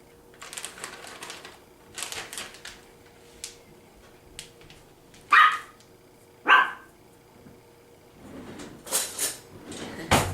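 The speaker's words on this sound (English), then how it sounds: "I'm babysitting my neighbor's dog. She is so cute, but she can be loud." A small dog in a home kitchen gives two loud, sharp barks close by, with lighter clicks and tapping scattered around them and a quieter rustle near the end.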